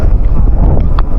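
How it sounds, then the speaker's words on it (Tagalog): Strong wind buffets the microphone outdoors in the Czech Republic, making a loud, continuous low rumble that fills the whole short moment. "ang lakas ng hangin"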